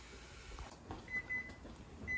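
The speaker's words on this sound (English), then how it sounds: "as you can hear, my timer is going off" Kitchen timer beeping during tomato canning: a few short, faint electronic beeps repeating over quiet room tone, with no talking.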